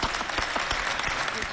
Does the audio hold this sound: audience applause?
yes